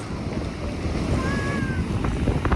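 Steady storm wind on the seashore at Lanzheron, Odesa, roars across the microphone, a dense low rumble throughout with faint whistling tones rising above it.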